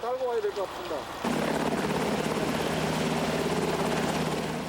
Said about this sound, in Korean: 헬기를 이용해 열기구 운반을 시도했다